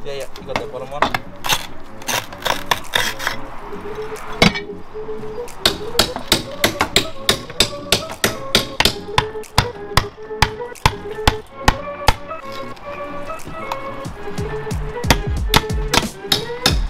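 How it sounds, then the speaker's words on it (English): Big chisel knocking old tiles off a leaking tile wall on a job site: rapid, loud, sharp metallic hammering blows in irregular bursts, close by, with clattering debris and a steady background hum. "Well, that seems a lot easier, boys, with that big chisel"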